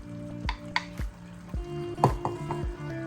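A spoon stirs and mixes mutton curry with cashew paste and coriander powder in a pot, giving repeated scraping strokes at a fairly even rhythm over a soft sizzle, close and moderately loud with no voices.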